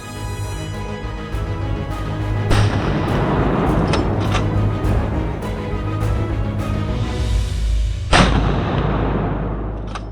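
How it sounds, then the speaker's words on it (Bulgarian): Gunshots ring out during a driven wild boar hunt in Austrian woodland: a few sharp, echoing rifle cracks at intervals over a constant rumble of outdoor ambience. "Имаше доста изстрели и не чак толкова много поразени свине"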